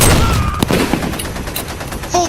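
A volley of gunfire in a stop-motion war film, a loud dense crackle of shots at the start followed by scattered sharper reports, with a voice briefly heard near the end.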